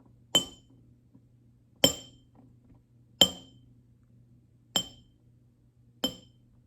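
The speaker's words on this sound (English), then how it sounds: "we are going to listen to the pitch of these bottles" Five bright clinks on glass bottles, evenly spaced about one and a half seconds apart, each ringing briefly before fading, over a faint steady low hum.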